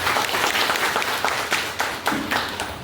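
An audience at a company meeting claps steadily, a dense burst of applause with a few sharper individual claps, loud and close, no voices over it.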